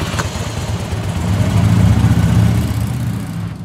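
A cartoon motorcycle engine turns over and settles into a low, steady running hum that swells in the middle and holds to the end.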